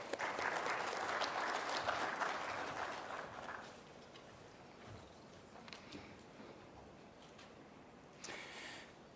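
An audience at a conference opening session in Kigali breaks into dense applause that holds for several seconds, then thins into scattered claps and fades, heard from a moderate distance.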